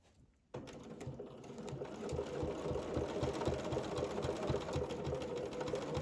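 A domestic sewing machine fitted with a ruler foot starts after a brief quiet moment and then runs steadily, its needle chattering in a fast even rhythm while quilting a small circle, close and clear with no talking.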